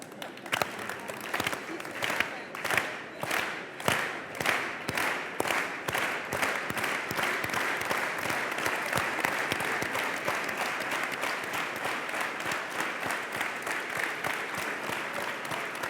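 Organized audience applause at a change-makers event: a crowd claps in unison with a distinct rhythmic beat for several seconds, then dissolves into a dense, steady wash of ordinary applause.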